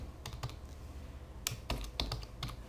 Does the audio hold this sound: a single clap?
no